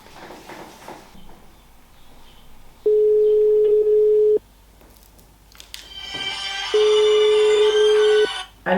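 A telephone call rings out twice, each a steady electronic tone lasting about a second and a half, separated by quiet, with some faint background clatter before the second ring.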